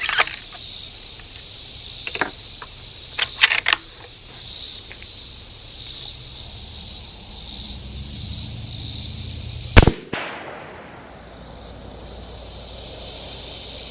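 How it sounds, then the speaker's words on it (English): A Ruger American 6.5 Creedmoor rifle fires once at a steel plate on an outdoor range, one loud, sharp report late in the clip with a decaying tail, after a few small clicks over steady background hiss. "Let's shoot another one, see if it hits the plate."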